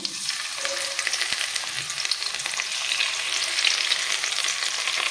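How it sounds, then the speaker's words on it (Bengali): Pieces of chitol fish fry in hot mustard oil in a wok, making a continuous loud sizzle and crackle with faint scraping, no voices. "সর্ষার তেল কড়াইতে দিয়ে গরম করে নিয়েছি আমি এখন একে একে মাছ ভেজে নেব"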